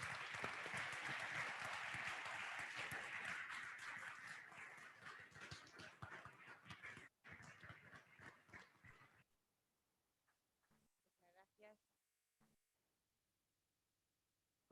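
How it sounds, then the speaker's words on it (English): An audience at the opening ceremony of ISU SSP21 at the University of Granada gives a dense, loud round of applause. It holds strong for several seconds, thins into scattered claps and fades to near silence. "Let's give a loud round of applause for Ms. Aranda."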